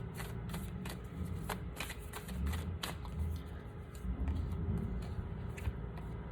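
Starseed Oracle deck cards being shuffled: repeated soft riffling and slapping bursts at an uneven rhythm, close and fairly quiet over a low background hum.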